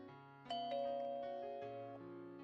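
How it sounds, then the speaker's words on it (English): Doorbell in the White Album visual novel: a two-tone electronic chime with sustained harmonic notes, the first struck and held, then a lower tone taking over, ringing clearly with no voices present. "the doorbell rings"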